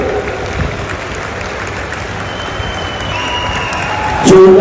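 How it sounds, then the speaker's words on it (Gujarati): A large crowd at the annual meeting of Rajkot district cooperative institutions applauds Amit Shah's arrival, a steady wash of clapping filling a big venue, with amplified voices and sound-system hum underneath and a louder surge at the end. "જોરદાર તાળીઓના નાદથી વધાવી રહ્યા છીએ."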